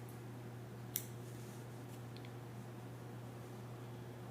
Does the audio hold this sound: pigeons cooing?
no